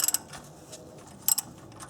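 A ratchet loosens a 27mm oil pressure sensor on a Nissan Maxima engine, giving two quick clusters of sharp metallic clicks separated by a quiet pause, close and distinct.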